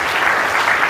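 Audience applause at a tour company's anniversary celebration, a dense steady burst of clapping from a crowd, loud and continuous for a brief moment.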